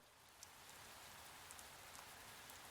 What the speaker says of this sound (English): The only thing I can hear is the sound of the rain continuing to pour.